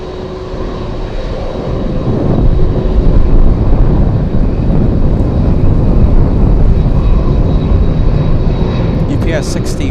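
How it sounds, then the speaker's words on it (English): A UPS cargo plane departs Anchorage on a gusty day, its engines a loud, steady broadband roar that swells after the first two seconds and holds for the rest of the span, with a faint voice underneath. "UPS 61 flying to Ontario."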